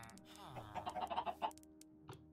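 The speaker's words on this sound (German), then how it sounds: "Die sind Hühner." Chickens in the video game Minecraft cluck in quick, soft bursts clustered together, faint and close.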